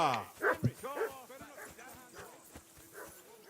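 A dog in a video game barks repeatedly in quick, uneven bursts, loud and close at first, then continuing more faintly amid game sounds.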